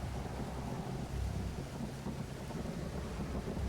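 Thunderstorm in a survival video game, a low continuous rumble with rain-like hiss and wind, fairly faint and steady without talk.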